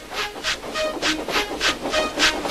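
A steam tank engine train, the rhythmic chuffing hiss of its exhaust repeating in even, loud pulses about every quarter second, close and alone with no voices.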